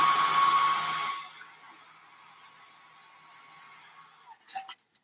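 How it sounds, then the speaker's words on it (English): A hair dryer blows loudly at first, then settles into a faint, steady low-speed whir, with a few sharp clicks near the end. "I am using my hair dryer on low"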